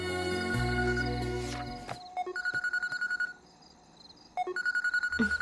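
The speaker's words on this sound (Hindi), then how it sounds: "ये तो दोबारा फोन कर रहा है।" A phone rings with repeated electronic trill bursts in two separate rounds, after a short stretch of music fades out.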